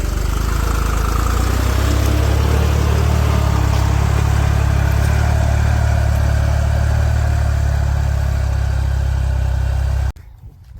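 A loud, steady tractor engine drone, Arjun Novo or Deutz Fahr, with heavy low rumble runs continuously, then cuts off abruptly near the end.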